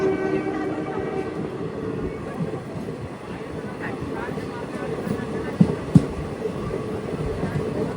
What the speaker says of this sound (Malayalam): പതിനൊന്ന് 14 ട്രെയിൻ ഇപ്പോൾ ജനക്പൂർ സ്റ്റേഷനിലെത്തിയ